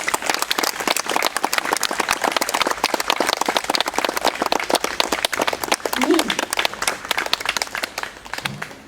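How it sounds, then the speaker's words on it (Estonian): Steady, loud applause from an audience after a barrel organ performance in a botanical garden, a dense patter of many hands clapping continuously, with a few voices briefly audible. "Palun suur aplaus."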